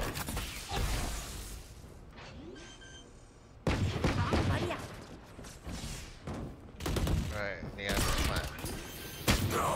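Rapid gunfire bursts in the Valorant shooter game, loud and close, coming in clustered volleys separated by brief quieter gaps, with mechanical clicks and a voice talking over parts of the action.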